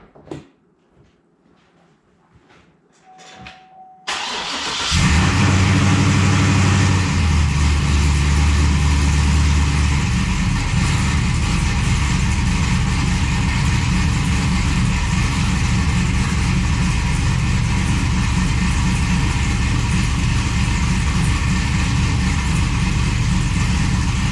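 A Big Cam 6.0L diesel engine in a truck cranks after a few quiet clicks, catches with a loud roar, then settles into a steady, loud, close idle that continues to the end.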